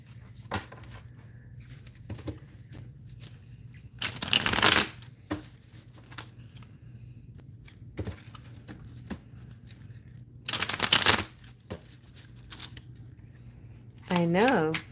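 Halloween tarot cards are shuffled in three brisk riffling bursts between stretches of talk, crisp and close to the microphone.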